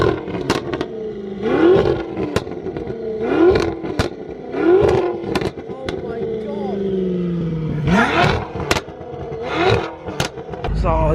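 A 1000 bhp BMW M5 engine is revved repeatedly while parked, with about six sharp blips rising and falling in quick succession and a longer held rev near the end, loud and close, with people talking in between.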